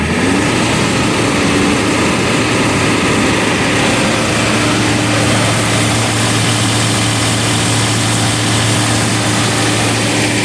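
A diesel engine is held at steady high revs close up, a loud continuous roar with a faint turbo whine running through it, no talking.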